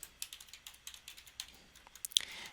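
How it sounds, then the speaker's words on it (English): Quick, light keystrokes on a computer keyboard entering figures into a spreadsheet chart, tapping in an uneven rhythm close by with a few sharper clicks near the end and no voices. "Let's go ahead and type in other payments."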